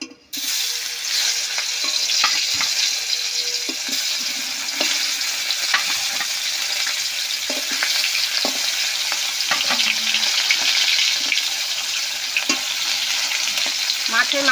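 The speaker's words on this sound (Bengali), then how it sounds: "মাছের মাথাগুলো বেশ কড়া করে ভেজে নেব।" Hilsa fish heads fry in hot oil in a kadai, giving a loud, close, continuous sizzle broken by occasional clinks and scrapes from stirring.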